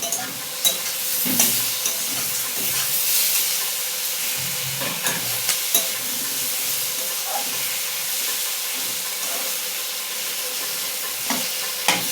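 Potatoes fry in a hot pan with a steady, moderately loud sizzle and hiss, broken by frequent spatula scrapes and clinks as they are stirred.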